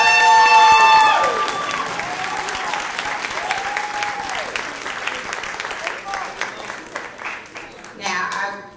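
A graduation audience at Olive-Harvey Middle College applauds families and friends, a dense, sustained clapping that swells loudly at first, then holds steady with voices and scattered cheers mixed in, and a brief rise near the end.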